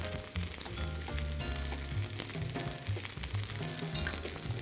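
Vegan ground round seasoned with black pepper, salt and mushroom seasoning sizzles steadily in a pan while being stirred, a constant close frying crackle with scraping throughout.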